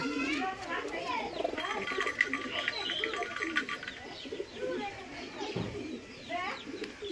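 Pigeons in a loft, including a handsome bird with striking eyes, coo softly and repeatedly amid steady chirps and background bird calls, with a person talking nearby.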